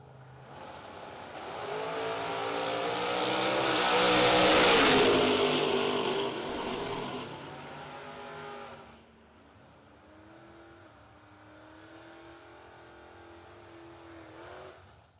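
A Camaro races down a drag strip against another car: a loud engine roar swells as the car launches and passes close, peaks, then fades into a quieter, steadier distant engine drone.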